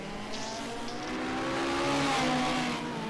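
Classic Hot Rod race cars pass by on a circuit at Yarmouth, engines droning loudly as they go by, pitch shifting as they approach and recede.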